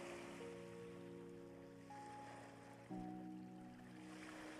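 Soft ocean waves wash faintly in the background beneath sustained, calm tonal music, a low, continuous surf ambience throughout.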